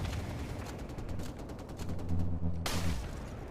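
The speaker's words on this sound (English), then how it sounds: "This is my shotgun you are talking to." Rapid gunfire crackles in a Call of Duty match, a dense burst of shots over steady game noise, then a sharper louder blast near the end, with no talk.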